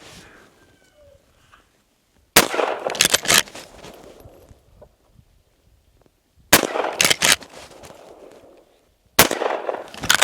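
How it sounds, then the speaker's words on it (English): Winchester Model 94 lever-action rifle fired rapidly outdoors at quart-sized jugs, three loud bursts of quick successive cracks separated by short quiet pauses, with no talk. "We're gonna just have a little fun shooting rapid fire with the old lever action."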